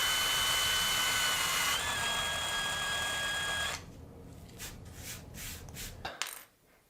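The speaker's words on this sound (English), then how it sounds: "It's like I got one little rivet to drill out here." A small drill bores out a rivet on a Matchbox diecast car, a steady high whine for a few seconds that then breaks into scattered clicks and light metallic rattles.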